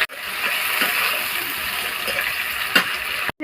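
Sliced onions hit hot oil with fried potatoes in a pan for a red chicken curry, a loud continuous sizzle and gush that holds steady for a few seconds before a brief stop.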